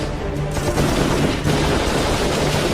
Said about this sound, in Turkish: Aha çatışma çıktı. Gafur sıkıyor şimdi.